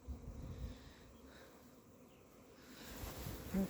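Honeybees fly around their hives on an early-spring cleansing flight, a faint, diffuse outdoor buzzing with soft wingbeat hum and light background noise.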